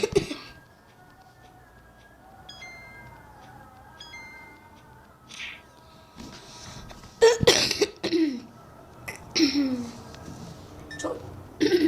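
Repeated coughing and throat clearing in short harsh bursts, growing louder and more frequent toward the end, with some quieter electronic game sounds early on.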